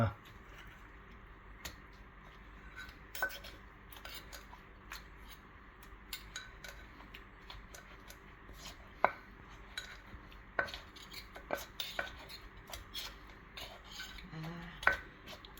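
Thai papaya salad (som tam) is mixed and pounded in a bowl, with quiet scraping, soft squishing and sporadic sharp utensil clicks, close but low in level, with faint talk in the background.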